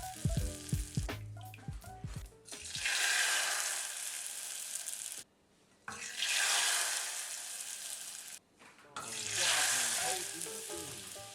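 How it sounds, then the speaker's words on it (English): Rice paper pieces dropped into hot oil for deep frying, three loud bursts of crackling sizzle each lasting a few seconds and separated by brief near-silent gaps, after some musical notes at the start. "Cut the rice paper sheets in half or into quarters, really any shape you prefer, and deep fry each piece for about 10 seconds at a time."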